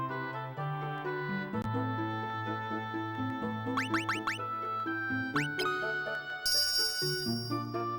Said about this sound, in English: The bell rang beautifully and the door opened.